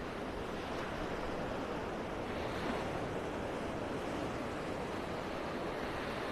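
Ocean surf washes in on Vanderbilt Beach in North Naples, Florida, a constant broad roar of breaking waves with light wind buffeting, no voices present.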